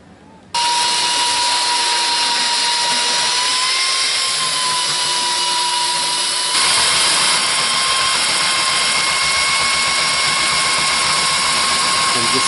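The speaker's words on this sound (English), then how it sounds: "I'm just switching out the sanding belt right now." Belt sander running steadily with a loud mechanical whine and steady tone, sounding continuously with a slight shift midway, no voices, while the sanding belt is swapped during sanding of a cabin kitchen table top.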